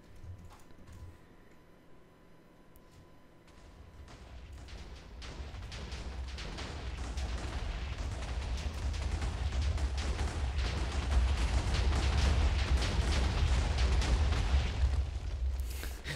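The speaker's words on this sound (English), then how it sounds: "explosion is coming in." TNT explodes in a Minecraft world, building from a quieter lead-in into a long, dense run of booming, crackling blasts with a heavy low rumble that stays loud until the end.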